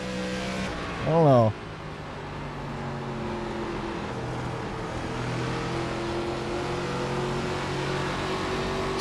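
Race cars in iRacing's ARCA Menards event at World Wide Technology Raceway, engines droning steadily close by with a brief rising whine or squeal early on, while someone speaks briefly over the racing noise.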